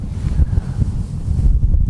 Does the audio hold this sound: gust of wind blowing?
yes